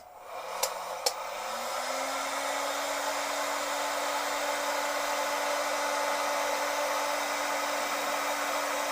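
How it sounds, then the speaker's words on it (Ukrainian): A 1400 W heat gun clicks on and settles into a steady, loud whirring blast of air that runs unbroken for several seconds, with a faint tone rising at the start. "Зараз врубаємось такий технічний фен"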